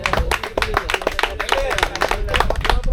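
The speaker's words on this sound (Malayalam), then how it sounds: "MVP-ക്ക് നല്ലൊരു കൈയടി." Lively, distinct hand claps ring out from a crowd honouring the MVP award winner at a sports tournament's final ceremony, with quick uneven bursts and people talking throughout.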